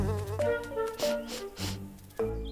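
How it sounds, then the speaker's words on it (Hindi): A cartoon fly buzzes in a Jungle Book animation, a stylized, tonal drone that wavers in pitch and swells and fades in several pulses. "शेर खान एक मक्खी बनकर लौटा है यहाँ।"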